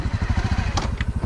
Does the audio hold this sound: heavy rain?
no